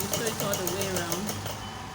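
A sewing machine runs steadily, stitching piping around a kimono dress neckline with a fast, even whirring hum, while a person talks over it.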